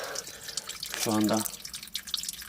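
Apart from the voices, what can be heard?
water dripping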